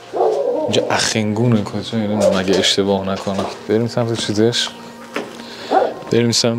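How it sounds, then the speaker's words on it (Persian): Dogs bark around an old, long-abandoned bathhouse. The barking is mostly buried under a man's close, continuous talking, with some short yelps surfacing between his phrases. "این صدای سگا میاد"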